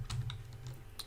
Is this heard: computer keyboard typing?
yes